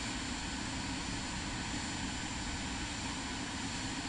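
In Microsoft Flight Simulator 2024, an airplane engine roars at takeoff power as a steady, dense, broadband drone. It holds constant and loud throughout, with no talking.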